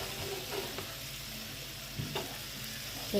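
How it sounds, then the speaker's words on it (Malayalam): Fish and egg sizzling in a hot pan on a steady low frying hiss, with a few light clinks and stirring sounds, no talking. "അപ്പോൾ തട്ട് കൂടായി നമുക്ക് ഓരോന്ന് പൊരിച്ചെടുക്കാം മീൻ ഫുള്ള് മുട്ട ഇതിനിങ്ങനെ പൊരിഞ്ഞ് വെക്കാം"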